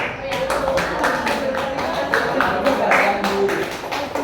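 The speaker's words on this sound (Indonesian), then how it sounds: "Beri tepuk tangan untuk kelompok abu-abu." A classroom group claps for the grey team, a rapid patter of many hands at moderate level that keeps going for a few seconds in a roomy space.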